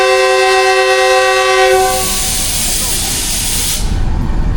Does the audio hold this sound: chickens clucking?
no